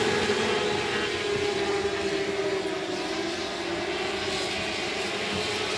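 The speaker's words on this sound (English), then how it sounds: "We are green flag racing for the restrictor sprints here at the 105." Restrictor sprint cars race at 105 Speedway under green flag, their engines blending into a constant loud roar across the track with no break.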